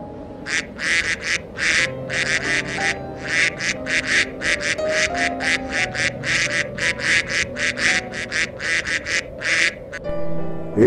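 Ducks on a duck farm quack in rapid, loud bursts, many calls overlapping in a steady noisy chorus close by, with a low hum of background activity underneath.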